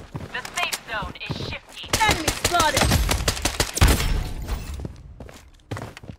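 Gunfire in the mobile shooter game Blood Strike: sharp bursts of rapid shots and single cracks, with thuds and footsteps between them and a voice talking over parts of the action.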